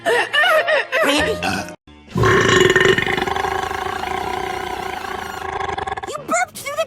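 A female cartoon character lets out one long, loud, rumbling burp lasting several seconds, with talking just before and after it.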